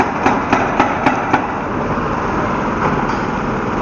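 Hammering at a house construction site: about five evenly spaced sharp blows, then fainter knocks, over steady loud traffic and engine noise.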